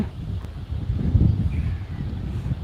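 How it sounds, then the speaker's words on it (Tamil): Wind blows across an open outdoor spot near Udumalaipettai, buffeting the microphone with low, gusty rumbling that swells and dips over a couple of seconds. "காற்று வேறு அடிக்குதா"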